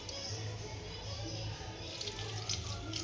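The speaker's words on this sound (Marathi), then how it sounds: "तर आता मी ही वांगे त्याच्यात पाणी टाकून घेत आहे।" Water running and splashing into a bowl of cut brinjals in a home kitchen, a steady close trickle with no talk.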